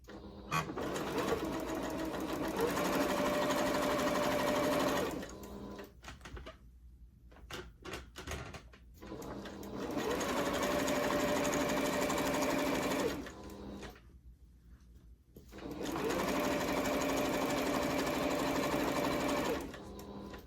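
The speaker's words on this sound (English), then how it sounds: "So let's get sewing. I'm just going to sew one down to show you" Sewing machine stitching a fabric beach bag, three loud, close bursts of rapid mechanical chatter separated by quieter pauses with handling and fabric rustle.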